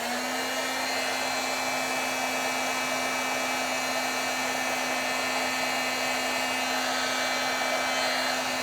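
A heat tool blows hot air to set stamped ink on a card, a loud continuous fan whoosh with a steady motor hum that holds unchanged throughout, with no talking.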